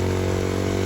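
A motorcycle engine labours loudly and close on a slippery, dangerous mountain dirt track in Basho Valley near Skardu, a sustained buzzing drone held steady as the bike struggles through mud.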